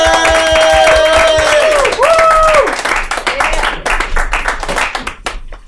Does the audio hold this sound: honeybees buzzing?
no